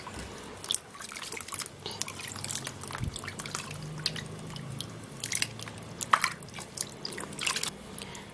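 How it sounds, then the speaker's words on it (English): Water trickles and splashes while a watermelon is washed by hand, a steady wet rinsing with drips and squishy handling noises close by, no talk. "I'm going to be washing the watermelon."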